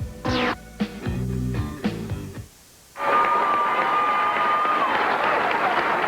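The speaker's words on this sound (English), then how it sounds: "great round of applause for a great champion, Amleto Monacelli" Audience applause for bowling champion Amleto Monacelli at the 1994 Greater Lexington Open, a steady crowd clapping that swells in after a short burst of musical tones and holds at an even level.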